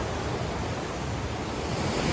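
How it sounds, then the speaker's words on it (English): A strong river current rushes at a backcountry crossing on the Pacific Crest Trail near Glacier Peak, heard as a steady, loud, broadband roar of churning water that carries on without a break and has no voices over it. "Another really strong current with a river crossing."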